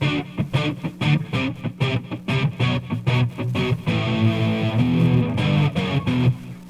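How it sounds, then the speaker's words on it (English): Distorted electric guitar played in rhythmic chords, the distortion feeding into a delay, then sustained ringing notes with a clean echo trailing behind, loud and close with no voices. "Through with the distortion going into the delay."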